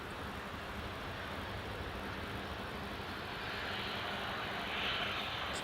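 A Belgian Air Force A400 aircraft approaching Newcastle Airport, its engines a steady broadband drone that swells slightly toward the end, heard at a distance with wind and no talk.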